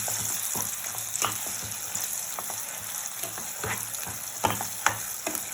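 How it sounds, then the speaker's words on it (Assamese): Mint and coriander leaves sizzle softly in oil in a pan over a low gas flame for a pickle, with a spoon scraping and stirring in irregular strokes over a steady frying hiss. "ভাল ধৰণে গেছটো চিমত দি পেলাই লৰাব লাগিব ধুনীয়াকৈ"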